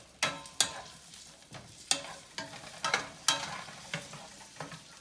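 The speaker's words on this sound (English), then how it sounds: "So we're gonna saute these down" Peppers sautéing in a pan, with a faint background sizzle broken by a series of sharp, close stirring scrapes and taps at an irregular pace, and no talk.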